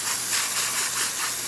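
Steam hissing from the wand of a freshly serviced Vibiemme E-61 espresso machine, a loud, continuous high-pitched hiss with slight pulsing, no voices over it.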